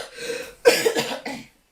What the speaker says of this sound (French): Laissez-moi tousser, c'est que je suis étouffée là.